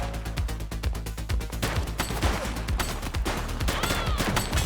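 Rapid gunfire in the police video game The Precinct, a dense volley of sharp shots and bursts cracking loudly one after another, with no talk over it.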